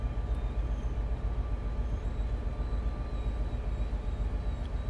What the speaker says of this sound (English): You can hear the air brakes grinding away behind us.